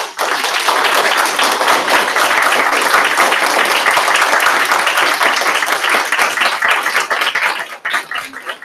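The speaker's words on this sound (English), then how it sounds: "give all of you a rousing round of applause" An audience at a third grade boys' oratorical event gives loud, sustained applause, many hands clapping together in a dense roar that holds steady for several seconds before tapering to a few scattered claps.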